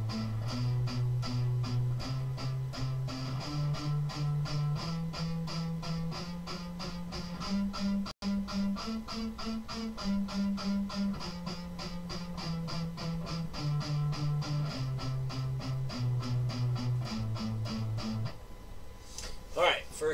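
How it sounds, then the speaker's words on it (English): A guitar plays steady alternate-picked, palm-muted notes in a fast, even stream, with the low note shifting pitch every few beats, close and fairly loud, ending in a brief scrape. "You got to practice palm muting."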